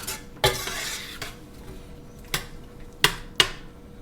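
A spoon scrapes and clinks against a pot while stirring simmering pear butter, with several distinct sharp taps spaced irregularly over a faint low bubbling background.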